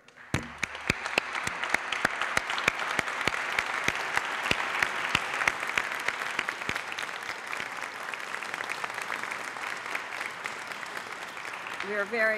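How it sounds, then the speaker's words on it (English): Audience applause at an Interdependence Day gathering, with sharp individual claps standing out over a dense, sustained wash of clapping that holds steady for several seconds before tapering slightly at the end. "So let's give some applause to Gary."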